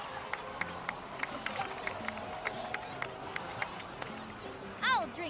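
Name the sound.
crowd applause and cheering in the video game Genshin Impact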